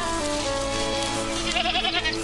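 Goats bleat in the Bulgarian countryside, several wavering calls rising over a busy, steady outdoor background.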